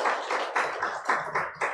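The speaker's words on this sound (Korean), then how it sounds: "박수로 환영해 주시겠습니다." A church congregation claps in welcome during a Sunday service, with several bursts of hand clapping in an uneven rhythm, loud and close, with no talking over it.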